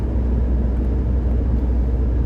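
A car engine pulls with a smooth, steady low rumble, heard close and continuous without any talking.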